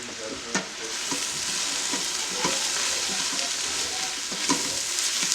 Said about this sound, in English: we're getting a good stir so we can mix up that flour with the butter and the juices